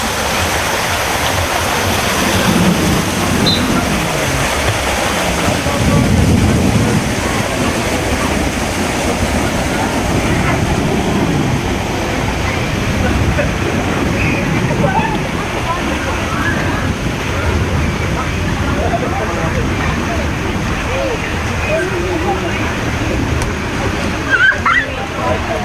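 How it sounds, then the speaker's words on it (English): A waterfall roars as a broad, steady rush of falling water, loud and unbroken throughout at a Six Flags Fiesta Texas theme park. "Waterfall."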